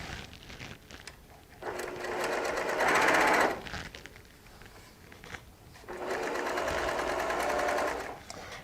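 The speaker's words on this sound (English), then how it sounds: "it sews so much better when you have bobbin thread, when you have a full bobbin in the machine as opposed to an empty one" A sewing machine loaded with a full bobbin runs two long, loud, steady bursts while joining quilt pieces, with a quieter gap of handling noise between them.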